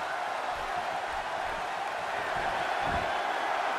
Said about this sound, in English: this boisterous Des Moines crowd